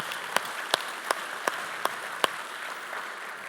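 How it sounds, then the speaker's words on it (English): Applause from a conference audience, faint and diffuse, with six sharp, evenly spaced claps standing out near the front over about two seconds before the sound settles into a soft, steady wash. "So please give a round of applause to Jitesh."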